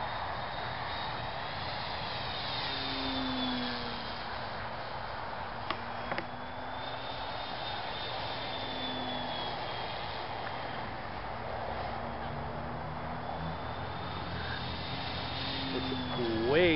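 A Parkzone Spitfire RC model plane with a brushless motor, rudder and servo mods flies at two-thirds to three-quarters throttle into the wind: a thin, steady motor whine rises and falls as it passes, with a voice talking over it.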